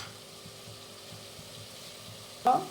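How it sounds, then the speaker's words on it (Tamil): Tomatoes with salt sauté in a pan, giving a faint, soft sizzle that runs steadily before a brief louder clatter near the end. "தக்காளி கொஞ்சம் வணங்கட்டும்."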